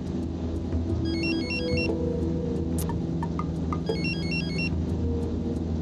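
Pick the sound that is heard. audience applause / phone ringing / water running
phone ringing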